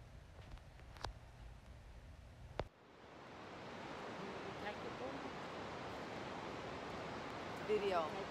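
Niagara Falls sends up a broad, steady roar of rushing water that swells in after a few seconds of quieter background with a couple of brief knocks.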